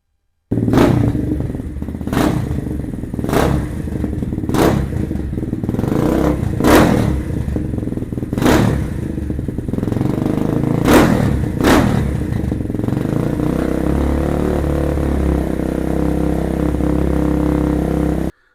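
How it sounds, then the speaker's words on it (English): A Venom Thunder motorcycle engine runs at idle during maintenance, a steady low rumble punctuated by several sharp revs or thumps in the first half before settling into an even, continuous idle. "I started the engine and I let it run a little bit so it would circulate"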